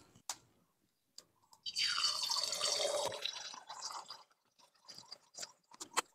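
An egg, cracked and lightly salted, drops into hot oil in a pan and sizzles with a sudden hissing burst that then settles into faint crackles and pops, close and quiet, with no talk.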